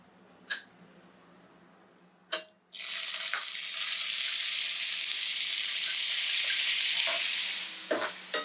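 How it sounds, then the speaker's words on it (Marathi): A few sharp clinks of a utensil against a wok come first, then small chicken pieces hit hot oil and burst into a loud, sustained sizzle that continues steadily up close, with a couple more clinks toward the end. "आता आपला तेल तापला आता ह्या चिकनात आम्ही फ्राय करून घेते"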